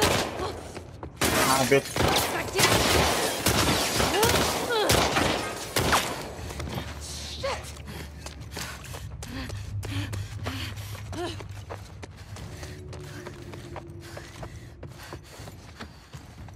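Rapid gunfire crackles loudly in The Last of Us Part 2 on hard mode, dense bursts in the first seconds that give way to scattered fainter shots and game noise while a player swears over it.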